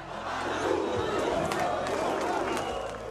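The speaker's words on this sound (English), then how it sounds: "Listen to that crowd." A dense crowd roars and chants continuously, celebrating the fall of Hosni Mubarak during the Arab Spring, with loud, sustained massed voices and scattered shouts filling the whole stretch.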